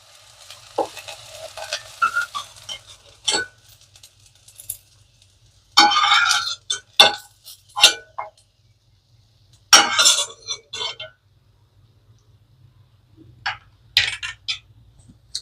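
Fried okra being scooped from the pan onto a plate, with intermittent spatula scrapes and clinks of metal against the pan and plate in separate bursts between quiet pauses, close and with no voices.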